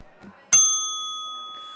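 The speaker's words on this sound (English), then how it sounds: "a warning bell will be given like this" A single warning bell at a timed speaking competition gives one bright metallic ding that rings on with a long, slowly fading tone, clear and close after a brief quiet moment.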